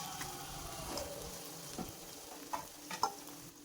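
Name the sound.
onions sautéing with salt in pan for fish curry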